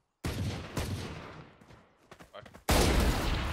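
Bursts of rapid gunfire in Valorant, two loud sustained volleys separated by a brief lull with scattered shots, heard up close.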